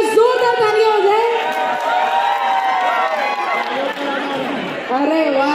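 A crowd at a Thane Navratri dandiya event cheers and whoops continuously. The excited voices overlap in a dense, loud wash with no pauses.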